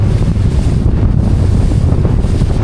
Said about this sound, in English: It's a little bit on the windy side.